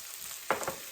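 Rice fries in oil in a pan with faint, soft sizzling and a couple of quick stirring scrapes.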